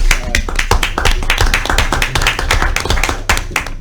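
Audience at a city council meeting clapping, a dense, close burst of many hands applauding steadily for several seconds.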